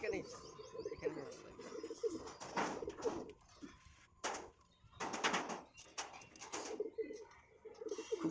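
High flyer pigeons coo in soft, repeated low calls with occasional chirps from nearby birds, close to the microphone, while someone talks intermittently over them.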